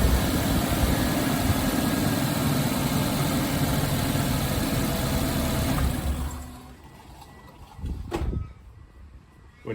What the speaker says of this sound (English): And now we'll start the engine to fill the oil filter full of oil.